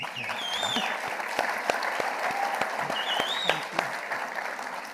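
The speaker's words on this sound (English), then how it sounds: "That deserves a big round of applause." An audience at a community conversation on education and community building gives a round of applause, a moderate wash of clapping with scattered sharper claps, while faint whistling or cheering rises briefly above it.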